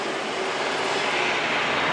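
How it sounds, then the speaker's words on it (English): An Airbus A330-300 heavy jet lands on runway 8 left at Atlanta, its engines giving a steady, loud, broadband roar that holds evenly throughout with no talk over it. "The first of many Euro-originating heavy jet arrivals is now gracing us with its presence here on runway 8 left, A330-300, obviously."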